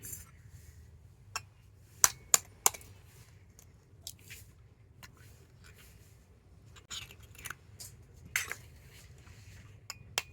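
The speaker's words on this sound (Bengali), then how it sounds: "এই ডিম দুটোকে এবারে ফাটিয়ে একটা বাটির মধ্যে করে নিয়ে নেব" Two eggs cracked into a bowl, with a few sharp, close taps of shell on the bowl's rim followed by faint wet squishes in a quiet kitchen.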